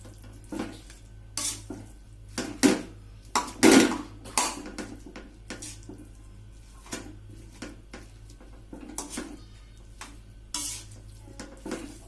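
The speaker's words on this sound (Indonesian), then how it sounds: "kita aduk sampai merata ya guys, sampai bumbunya dan nasinya itu tercampur. Oke, kita aduk secara perlahan." Cooked rice is stirred with spice paste in a pan. A spoon scrapes and clinks against the metal in irregular bursts over a faint sizzle, with quiet pauses between strokes.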